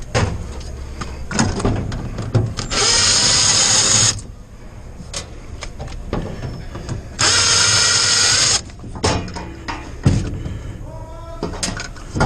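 Cordless power drill driving out screws from an Azkoyen Zensia coffee machine during an electrovalve replacement, with two sustained whirring bursts of a few seconds each, close and loud, separated by clicks and handling noises.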